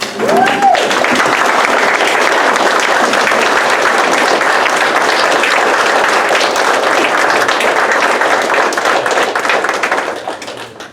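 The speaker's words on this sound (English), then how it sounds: "Will the audience please rise and give our newest Eagle Scout, Bart Lopez, a round of applause" Sustained, loud applause from an audience standing for a new Eagle Scout at a Court of Honor ceremony, dense clapping filling the room steadily for about ten seconds before fading at the end.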